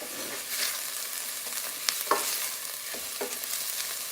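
Onions frying in a pan for a masala base sauce are stirred, soft sizzling broken by several scraping stirs, close and with no talking.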